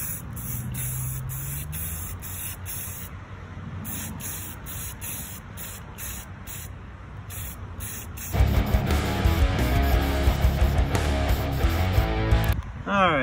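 Primer sprayed from a can onto a disassembled Xbox One controller shell, in several short hissing bursts and then longer steady spraying, with a louder, busier stretch toward the end.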